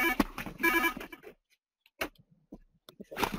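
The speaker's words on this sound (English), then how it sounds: "Anyone enjoying that phone that's ringing now that we have one? Somebody answer the phone." A telephone rings in bursts of trilling electronic tones, two clear rings close together and another starting at the end, with gaps of near silence between.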